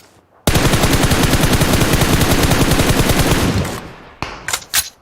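A loud, rapid automatic-weapon burst in PUBG Mobile rattles nonstop for about three seconds, then fades and is followed by a few separate sharp shots.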